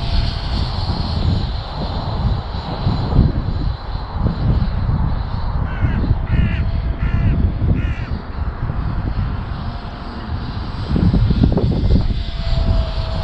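Electric ducted fan model Gnat jet, a 25-inch balsa scratch build, flying on its maiden flight: a steady loud whooshing fan roar throughout, with wind buffeting and a few crow caws in the middle.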